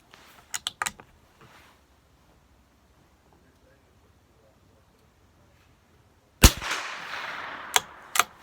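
A Valmet Standard .22LR match rifle fires at spinner targets 50 away: a quick cluster of sharp cracks, a long quiet gap, then another sharp shot with a ringing tail and two more cracks.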